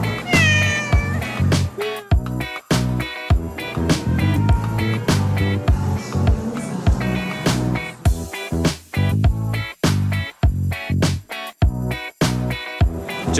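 Cats at a cat cafe meow and caterwaul loudly and almost without pause, with many overlapping, drawn-out cries close by.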